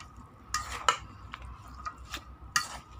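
Vietnamese beef salad is tossed by hand in a bowl, making soft, close squelching and rustling with a few sharper clinks against the dish in short irregular bursts, and no one talks.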